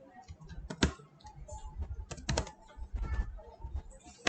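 Quick bursts of keystrokes on a computer keyboard while PHP code is typed, clicking in irregular clusters close to the mic with short pauses between runs.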